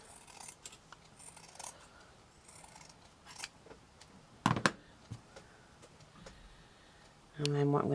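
Scissors trim fabric for a small shabby chic flower, a few quiet snips and rustles followed by a sharper double cut near the middle, close-up, with a voice talking softly at the end.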